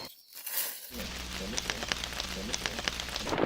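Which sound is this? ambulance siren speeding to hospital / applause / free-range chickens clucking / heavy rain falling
heavy rain falling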